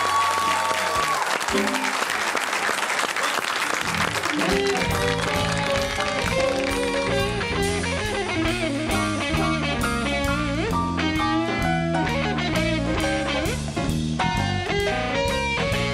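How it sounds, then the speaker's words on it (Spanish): An audience claps for a live band at a show in a few seconds of dense applause, then the band launches into a loud blues number that takes over. "el aplauso para ellos"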